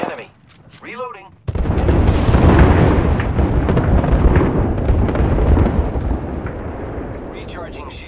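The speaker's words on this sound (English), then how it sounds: "Dropping the pain. Airstrike onward." Airstrike explosions in a shooter video game roar as a loud, sustained rumbling barrage lasting several seconds, with a brief synthetic voice line just before the blasts.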